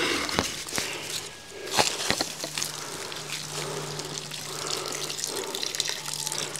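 Water runs from a tap in steady rushing flow, near and moderately loud, with a few sharp knocks and shuffling steps around it; the source is a well-fed water supply at a home where a screened patio is being enclosed.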